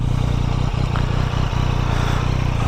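A Yamaha XSR900 motorcycle engine runs loud and close while stationary with a steady throbbing beat, no voices present.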